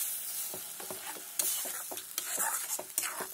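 Spice paste for chicken curry frying in a pan, a soft steady sizzle broken by repeated scraping strokes of a spoon as it is stirred, close and fairly quiet with no talking.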